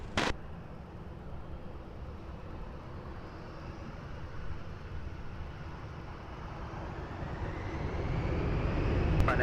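An airliner taking off on runway 20 at Lisbon Airport produces a broad, distant rumbling roar that slowly swells in loudness, with a couple of brief clicks at the start and end.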